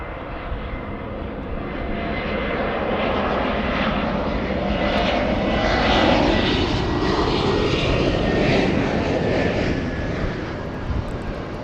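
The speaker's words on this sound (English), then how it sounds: "Let's go for the United Airlines A321" A United Airlines Airbus A321 jet arriving from Denver at Los Angeles International Airport, its engines roaring loudly and steadily as it passes close by, swelling slightly toward the middle with no talk over it.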